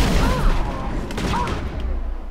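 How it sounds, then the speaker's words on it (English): Rocket explosions in the Mass Effect video game, a burst of booming blasts and gunfire-like reports, loud and close, with a person talking over the action. "Oh gosh, that was a rocket."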